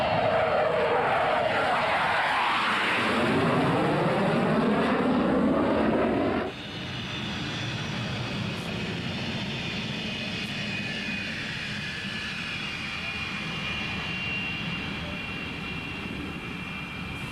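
A fixed-wing airplane's engine roars loud and steady, then drops sharply to a quieter, even drone partway through, as if throttling back on landing approach; no voices.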